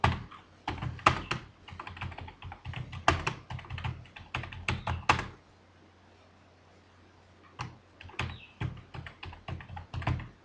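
Rapid typing on a computer keyboard while writing a school admission form in MS Word, with bursts of close, crisp keystrokes, a pause of near silence in the middle, then more typing.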